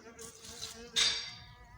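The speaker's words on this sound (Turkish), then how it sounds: "Arı da geziyor." A bee buzzes close by among flowering broad bean plants in a garden, swelling louder for a moment before drifting off, with faint outdoor background.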